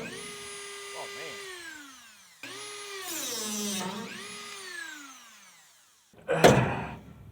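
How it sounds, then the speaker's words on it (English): A Dremel rotary tool whines at high pitch as it cuts stripped clamps on a 1976 Ford F150, running in long sustained passes that rise and fall in speed, followed by a short harsh grinding burst near the end. "I eventually had to abandon the ratchet here and go for the bad"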